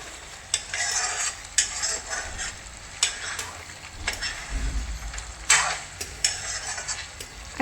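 Chicken coated in curd paste stirred in a pan over low flame for dahi chicken curry, a spoon scraping in steady repeated strokes with sharp clinks against the metal over a soft sizzle, close and with no talk.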